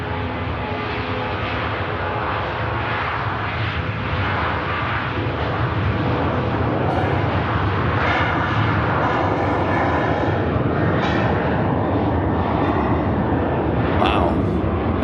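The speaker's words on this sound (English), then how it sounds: "Nice loud departure there from the 737." A Boeing 737 departing Manchester Airport gives a long, loud, steady roar of jet engines at takeoff, holding strong throughout with broad rumbling noise.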